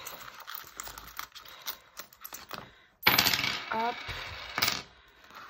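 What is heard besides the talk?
coins dropped into budget envelope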